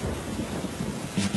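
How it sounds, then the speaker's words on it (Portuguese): Rain pouring during a thunderstorm, a dense steady hiss of falling drops with a low rumble swelling near the end, short and fairly loud. "A chuva veio com temporal."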